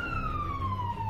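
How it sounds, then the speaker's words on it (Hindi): A wailing emergency siren sounds on a Moscow street, a steady falling tone that carries loud over a low traffic rumble, with no voices. "मॉस्को में सायरन की आवाजें कान के पर्दे फाड़ रही हैं।"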